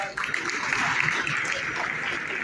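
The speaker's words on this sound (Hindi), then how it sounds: "जोरदार तालियों के साथ" Loud applause from an audience at a formal public event in Rajasthan, a dense steady wash of clapping that fills the whole stretch with no break.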